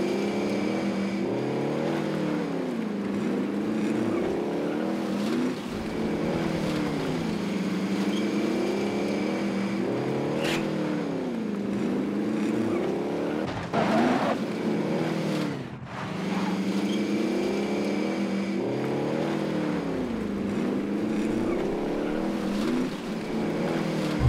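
A vehicle engine in Call of Duty Warzone drives steadily and loudly, revving up and down in repeated surges with a brief dip partway through, alone without talk.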